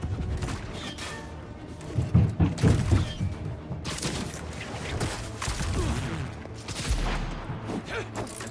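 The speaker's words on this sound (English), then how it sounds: "Fire another volley." Volley of gunfire in the Spider-Man 2 video game: dense, continuous rattling bursts with thuds and crashes, loudest in a cluster near the start, steady game sound throughout with no talk.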